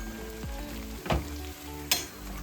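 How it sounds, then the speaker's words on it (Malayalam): Banana fritters (pazham pori) sizzle in hot oil with a steady crackling fry, broken by a few louder splashes and clatters as pieces are dropped in or stirred; no talking. "ഇതിങ്ങനെ ഓരോന്നായിട്ട് നമുക്ക് എണ്ണയിലേക്ക് മുക്കി ഇട്ട് കൊടുക്കാം."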